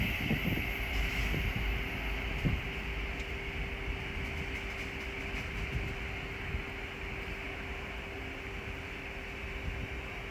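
Great Northern train at Welwyn Garden City station, a steady broad rumble and hum of the passenger train pulling away, with a constant whine and occasional clunks, no talk.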